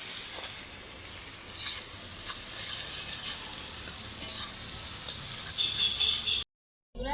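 Curry leaves hiss and sizzle in hot oil with onions for chicken kosha, a steady frying crackle that runs nearly throughout before a brief drop to silence near the end.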